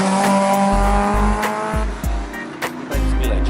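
At a race track, a Tesla's tires squeal as they break traction in second gear, with loud, close engine and road roar and several sharp, repeated chirps standing out.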